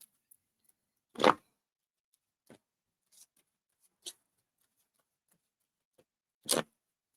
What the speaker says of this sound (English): I am shuffling these babies and picking up on energy.